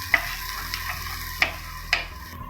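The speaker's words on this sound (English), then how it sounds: "we'll have to just cook this till the raw smell of this ginger and garlic will disappear" Ginger and garlic frying in a pan for a Baingan Bharta, a low sizzle broken by a few sharp clicks of a utensil against the pan, close and fairly quiet.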